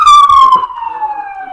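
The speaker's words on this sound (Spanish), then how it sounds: "la ambulancia" An ambulance siren wails loudly as it passes outside, its steady tone sliding downward as it moves off, with no voices over it.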